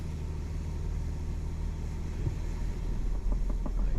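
A 4WD vehicle works its way out of sand on Exitrax recovery boards, with a low, steady engine rumble a little way off and a slight rise as it pulls free near the end.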